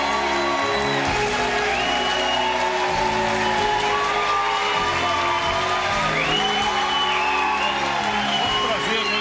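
A TV studio audience applauds and cheers a show guest in a steady, dense wash of clapping and whoops that runs throughout, partly under music and a voice.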